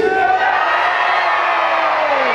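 Truckfest crowd cheering for the Swampthing monster truck: a loud, sustained roar of many voices with whoops and yells, continuous and dense across the whole stretch.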